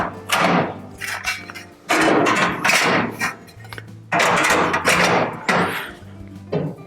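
Side burner grate and flame diffusers of a Pit Boss Pro Series combo grill being set in place, giving loud metallic clanks and thunks in bursts with short scraping rattles between them.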